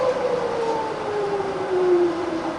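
A rebuilt Bridgeport milling machine spindle runs with a steady mechanical hum, its whining tone gliding slowly downward as the speed drops toward 120 RPM, loud and close with no talking.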